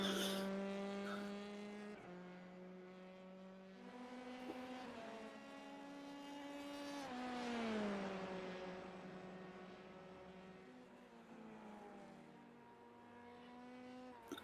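A Formula 3 race car in a racing sim video game kicks into oversteer, its engine whining in rising and falling pitch sweeps as it shifts through gears, fairly faint and continuous.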